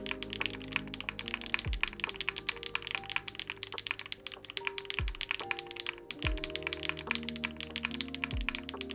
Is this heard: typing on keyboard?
yes